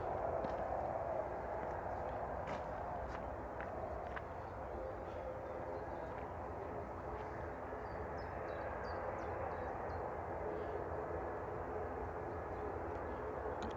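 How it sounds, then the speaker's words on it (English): A Loganair propeller aircraft taxis out at Manchester Airport, its steady droning engine hum heard from a distance, constant and unbroken throughout with no talking. "Logan Air noisy prop taxiing out."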